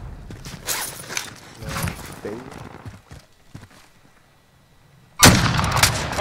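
Scattered game gunfire and movement in Call of Duty: Warzone, with quieter clatter and a lull before a sudden loud burst of close shots near the end.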